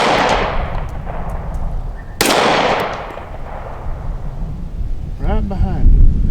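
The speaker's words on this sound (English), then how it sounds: "make lots of noise with these guns" Smith and Wesson M&P Compact pistol fired outdoors in strong wind, with one sharp loud gunshot cracking over steady wind rumble and a voice speaking briefly near the end.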